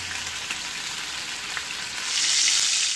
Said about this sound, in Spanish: ya estoy terminando de sellar las costillas